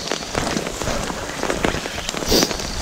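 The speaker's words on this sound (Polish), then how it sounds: "Aż takiego deszczu to się nie spodziewałem." Heavy rain pours steadily during a fishing trip on a small oxbow lake in wind and rain, a dense, continuous patter of drops hitting surfaces close by, with no talking.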